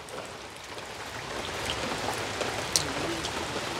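Steady rain patters down outdoors where pulasa fish curry from the Godavari is being cooked, a dense, even hiss of drops on surfaces with one brief sharper tap, with no talking.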